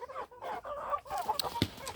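A Faverolles rooster clucks and calls nearby in short broken bursts, with fowl-like vocal sounds rising and falling.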